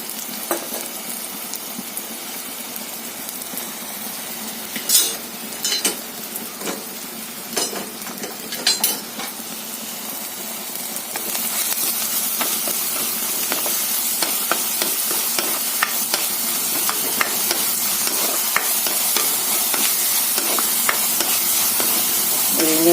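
Moringa leaves sautéing with salt in a pan for a thoron, a steady close sizzle with scattered clinks of a spoon stirring, growing louder and denser in its second half, with no talking.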